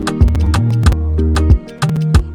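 Beat playback from the outro-adjacent section of a song, with a Sound Toys Tremolator effect making the instrument shake; deep sustained bass notes pulse under repeated sharp percussive hits, loud and alone with no talk.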